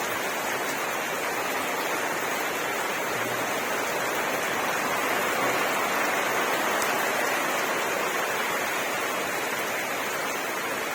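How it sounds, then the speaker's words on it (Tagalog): Steady, dense rush of heavy rain from Typhoon Enteng over a swollen river in Marilao, a continuous broadband hiss that stays even throughout with no talking. "Taas pa rin ang ulan."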